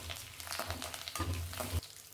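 Green chillies and curry leaves frying in hot oil in a pan, a steady close crackling sizzle with louder bursts and stirring clatter throughout.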